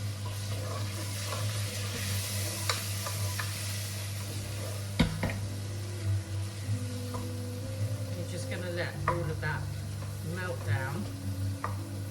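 Minced garlic sizzles in a pan for sausage and mash, a continuous close hiss and crackle with stirring scrapes, under a steady low hum and brief clatter.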